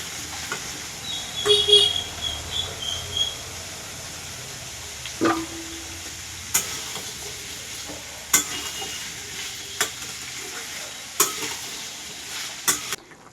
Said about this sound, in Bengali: এখানে আলু পোস্ত ফুটছে